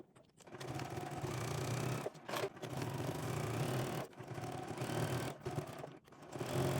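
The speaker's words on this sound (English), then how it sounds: "I'm gonna sew the shoulder seams for this one and for this one." A sewing machine runs steadily while stitching the shoulder seams of a dog's spring jacket, with three brief pauses between loud, close, continuous bursts of stitching.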